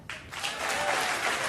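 Audience at a stand-up comedy show breaks into applause that starts abruptly and holds as a dense, steady clatter of clapping from a full room.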